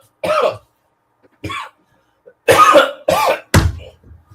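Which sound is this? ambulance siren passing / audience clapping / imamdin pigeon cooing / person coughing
person coughing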